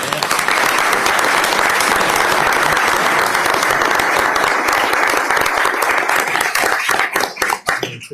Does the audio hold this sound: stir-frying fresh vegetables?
no